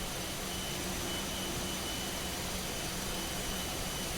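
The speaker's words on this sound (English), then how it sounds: "These are the LEAP 1A CFM Neo engines for the A320" Steady, dense roar of CFM LEAP 1A jet engines on an Airbus A320neo in a flight simulator, a constant broadband hiss-like rumble with no change in level throughout.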